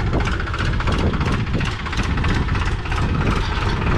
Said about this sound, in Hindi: ट्रैक्टर चला रहे हैं अभी